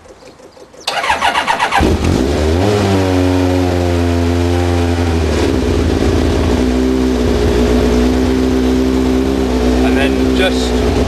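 A Tiger Z100 engine cranks and catches after a short start, then runs loudly and steadily while warming up on choke and throttle, its pitch rising and settling as the revs change.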